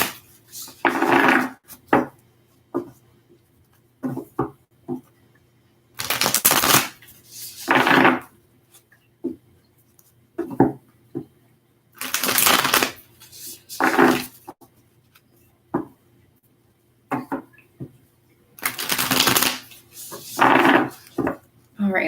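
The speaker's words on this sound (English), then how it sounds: "Just a couple more shuffles here." Tarot cards are shuffled by hand in repeated crisp riffling bursts, each a second or two long with pauses between, close and clear against a quiet room.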